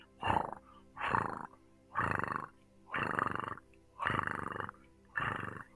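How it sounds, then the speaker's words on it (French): Close, rumbling purring rises and falls in six regular breaths, each about a second long with short gaps between. "Ça ronronne."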